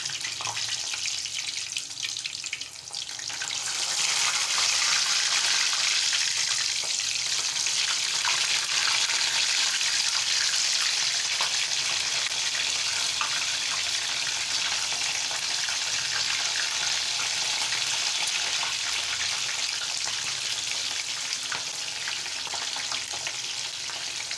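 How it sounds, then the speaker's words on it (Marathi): Chopped okra (bhindi) fries in hot oil, a loud continuous sizzle with hissing crackle that swells after the first few seconds and holds steady throughout. "मी हे चिरून घेतलेले भेंडे मी असे तेलात घालणार आहे आणि तळून घेणार आहे"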